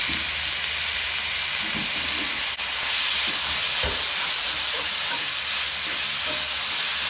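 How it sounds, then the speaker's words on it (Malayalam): Onions fry in coconut oil with a loud, steady hiss and sizzle, close and continuous, with faint stirring knocks underneath. "വെളിച്ചെണ്ണ ഒഴിച്ച് നമുക്ക് ഉള്ളി"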